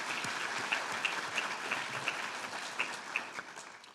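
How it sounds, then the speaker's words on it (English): An audience at an awards ceremony gives the bar staff a steady round of applause, dense and continuous with a few sharper individual claps standing out, moderately distant and without speech. "So please, a round of applause for the bar staff."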